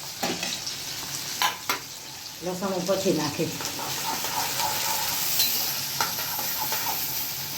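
A tempering of onion, tomato and green chili with mustard seeds and cumin sizzles in a pan beside the sound of stirring, while someone talks briefly over the steady frying hiss.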